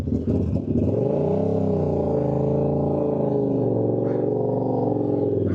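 A Yamaha R7 motorcycle engine revs hard and holds a loud, sustained, steady roar that climbs in pitch as it accelerates for a wheelie, heard up close with strong wind noise.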